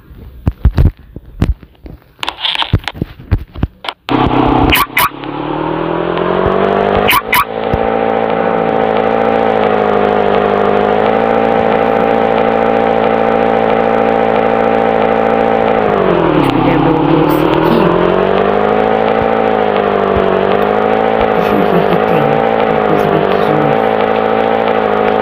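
A small motorbike engine in Roblox Brookhaven, after a few clicks and taps, droning steadily and loudly for over twenty seconds with a constant buzzing tone that dips and rises once midway, as if revving down and back up.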